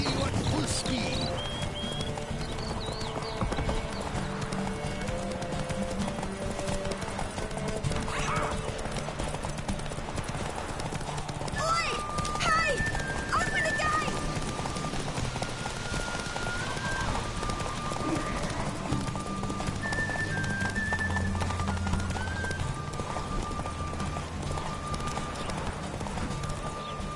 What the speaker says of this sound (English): Faster. Whoa there, Roach